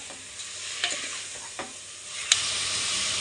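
Chicken coated in ginger paste is stirred in a pressure cooker, a steady hiss of frying broken by a few sharp scrapes of the spoon against metal, close and alone with no voices.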